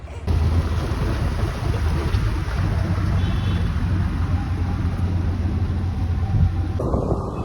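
A scooter riding along a road, its engine a steady low drone under heavy wind rush against the microphone, continuous and close for several seconds before easing at the end.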